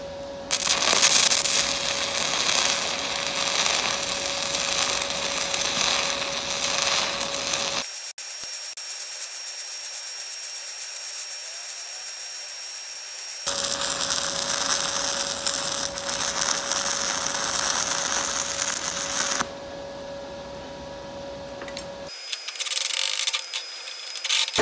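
Stick welding with a 1/8 inch 7018 rod on a Blue Demon Bluearc STI 200 DC Pulse welder: a steady, crackling arc hiss runs in two long stretches separated by quieter pauses, with no talking.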